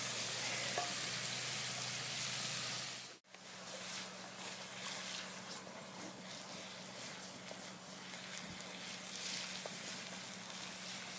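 Bacon, apple and onion fry in a pan with a steady close sizzle and the scrape of stirring, broken by one brief pause.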